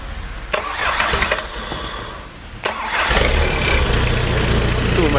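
A used car's engine cranks with a couple of sharp bursts, then catches and settles into a steady, loud running rumble close by.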